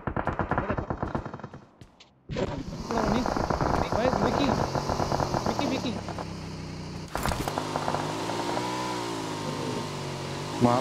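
A motorcycle engine in a video game match buzzes in rising and falling harmonic whines, mixed with bursts of rapid gunfire and a brief dropout midway, with a voice talking excitedly over it.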